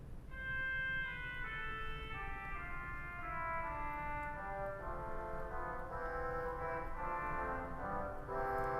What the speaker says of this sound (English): Then we've got an oboe.